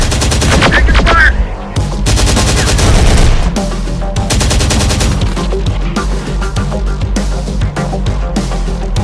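Gunfire in Terminator: Dark Fate – Defiance: loud, dense bursts of rapid automatic shots ripple almost nonstop, close and overlapping, with brief gaps between volleys.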